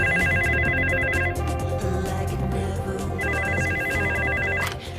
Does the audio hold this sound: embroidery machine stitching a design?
no